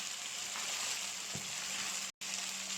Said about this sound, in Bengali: দিয়ে ভালো করে মশলাটা ভাজতে হবে।